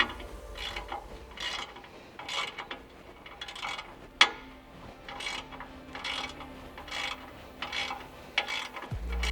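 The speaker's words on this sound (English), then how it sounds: "you're going to switch to a 7/16 socket with your ratchet" A hand ratchet with a 7/16 socket tightens a skid plate bolt on a Tacoma lower control arm, giving repeated bursts of rapid clicking strokes in a steady rhythm with one sharp metallic knock midway.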